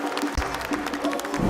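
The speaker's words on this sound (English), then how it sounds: "Give him a round of applause here, folks." Applause and crowd noise at a PUBG Mobile World Cup esports tournament, a loud, steady wash of clapping through the short stretch.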